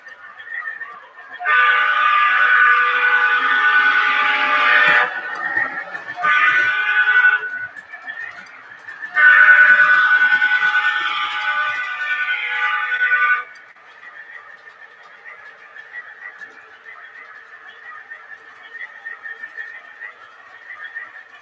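An Alco model locomotive working on a model railroad gives three loud, sustained tonal blasts with short gaps between them, then settles into a quieter steady hum.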